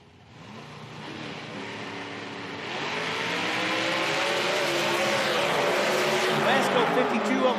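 A drag racing car stages and launches at an IHRA Pro Am event, its engine building from a low idle into a loud, sustained roar that swells and holds to the end.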